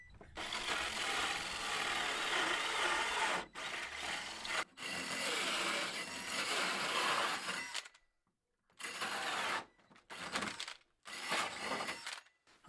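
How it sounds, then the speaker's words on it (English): A 60mm auger bit bores at an angle through material on a French homestead, giving loud, rough grinding and chattering bursts that stop and restart several times, with short silent gaps between runs. "I've got a 60mm drill bit."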